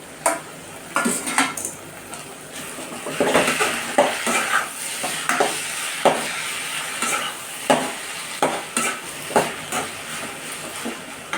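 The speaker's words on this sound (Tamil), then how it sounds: "இந்த தக்காளியும் போட்டு வதக்கிக்கிடலாம்" Chopped tomatoes sautéed for a Tamil okra pachadi, a spoon scraping and clinking against the pan in a steady, repeated rhythm over a soft sizzle, close and clear with no talking.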